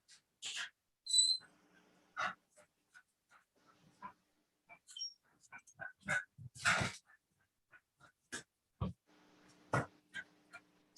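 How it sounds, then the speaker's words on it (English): A dog whimpers and pants in short, scattered bursts with a few high whines, fairly close, between silent gaps, with no talking. "I need to take care of this dog"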